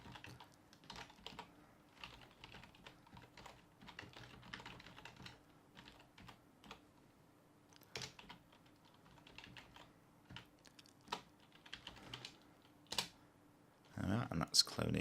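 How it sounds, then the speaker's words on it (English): Someone types a git clone command on a computer keyboard: quick, quiet, irregular key clicks in uneven bursts, close by, with a louder rustle near the end. "So I'll type in git"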